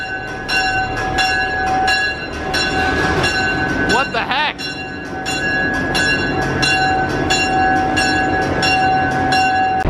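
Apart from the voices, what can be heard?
train passing through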